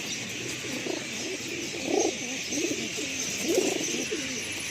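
Pigeons coo softly inside a home loft, giving a few low, rounded coos in slow succession over a faint steady background hum.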